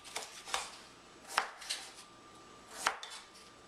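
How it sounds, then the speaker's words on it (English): Sharp scraping strokes from a knife peeling artichoke stems, each stroke a quick dry rasp, spaced irregularly at close range in a quiet kitchen. "So I'm going to peel these stems."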